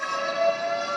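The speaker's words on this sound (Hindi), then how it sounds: "सबसे पहले आपको पता है एक सायरन बजेगा" A steady wailing siren sounds alone at a school mock drill, a sustained tonal blare at moderate loudness with no voices.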